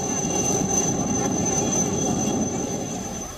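A rescue helicopter drones steadily over a flooded area near Nagpur, with a constant rumble and whine from start to end and no clear rise or fade.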